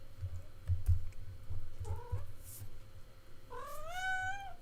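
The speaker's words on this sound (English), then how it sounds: "Here's my cat again." A domestic cat meows twice nearby, first a short chirpy call and then a longer rising, wavering meow, while soft keyboard typing and light tapping go on in a quiet room during a live drawing session.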